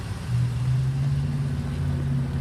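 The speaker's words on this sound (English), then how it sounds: "Vehicle fires right up." A 2009 Jeep Liberty Limited started by key fob remote start fires up and settles into a steady low idle hum, close and continuous with no voices.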